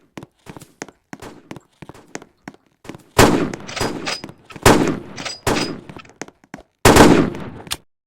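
Pistol gunshots in a Roblox video game ring out as several loud, sharp blasts spaced a second or so apart, with fainter clicks and taps in between.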